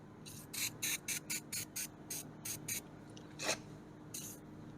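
A WD-40 aerosol can sprays onto bare metal on a car where the paint is gone, in a quick series of short bursts, about a dozen hissing puffs close by, followed by a couple of longer sprays.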